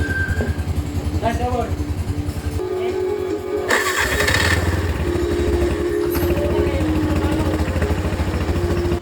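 A Bajaj Maxima three-wheeler, just fitted with new starter carbon brushes, cranks and fires up at once, settling into a loud, rhythmic mid-pitched idle with a brief rev while someone talks over it.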